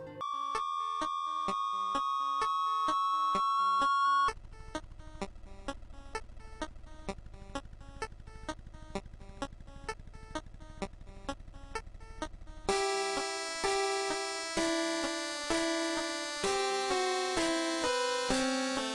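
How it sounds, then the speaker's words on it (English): Eerie chiptune melody from a rumored beta version of a haunting Pokémon video game song, with repeated bright beeping notes, a buzzing low-register middle section and a higher, denser closing passage, heard alone. "there's supposedly a beta version of the song that sounds like this."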